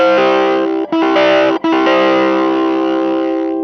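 Electric guitar played through a Limetone Audio fuzzhog fuzz pedal, giving thick, sustained, saturated notes. Two short gaps break the steady, loud tone, then it rings on without talk.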